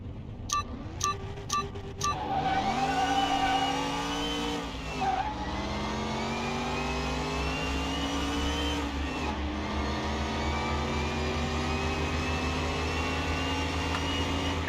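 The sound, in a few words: BMW 3 Series V8 racing, Car Mechanic Simulator 2021 video game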